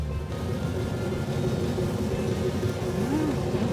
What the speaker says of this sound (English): go for a joyride in a 70 Cuda 446 barrel tribute car